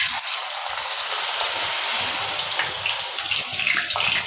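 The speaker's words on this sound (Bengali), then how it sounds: "এবার আমি এই তেলের মধ্যে ছেড়ে দেবো বেসন মাখানো ফুলগুলো" Gram-flour-battered pumpkin flowers hiss and crackle in hot oil, a steady broad sizzle that stays loud and close throughout with no voices.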